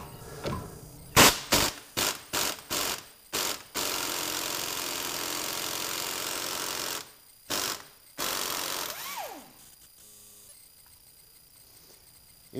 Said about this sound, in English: Impact on the sway bar end link definitely helps because the bolt can spin